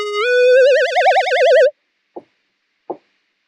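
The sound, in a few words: Alchemy synth preset called Cars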